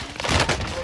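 Gunfire in Call of Duty Warzone, a brief dense burst of rapid shots that blur together into one loud, close rumble.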